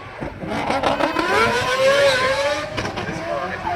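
James Deane's 4-rotor drift car revs hard at an event, with a raspy rising engine note that surges and falls across a few seconds under someone talking nearby.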